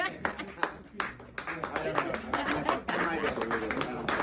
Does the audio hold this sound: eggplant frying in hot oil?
no